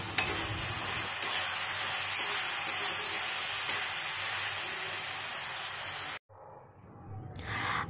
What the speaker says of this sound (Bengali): আর আমি চাউমিনটা বসিয়ে দিলাম